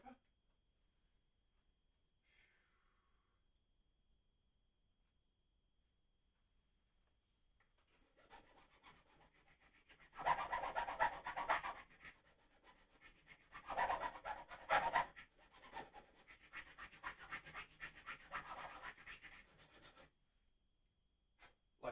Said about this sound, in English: Get our little crowning file,